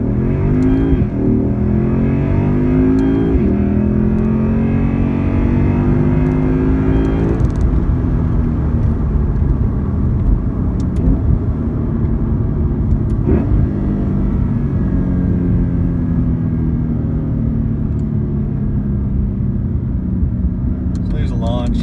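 A Lexus IS F engine roars steadily as the car launches and accelerates hard, pitch climbing through gears, heard from inside with windows closed and a voice talking over it.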